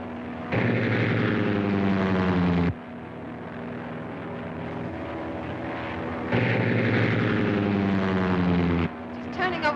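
A propeller airplane engine roars at full throttle in flight, a loud steady drone with strong throbbing tones. It swells in two bursts, sounding like an old film soundtrack.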